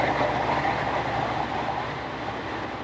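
Inside a moving JR train in Japan, a steady rumble and rolling hum of the railcar fills the space at a moderate level, continuous and unbroken, with no voices.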